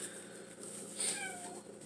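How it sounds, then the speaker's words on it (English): A cat cries a soft, drawn-out meow indoors, faint and close, over a low steady background hum. "That's my cat. Ignore him. He likes to cry."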